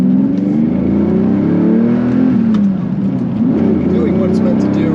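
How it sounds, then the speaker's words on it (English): A 1998 Lamborghini Diablo SV engine revs hard while driving on a mountain road, its loud, close, rising and falling roar sustained under occasional talk. "Engine is just loving life right now."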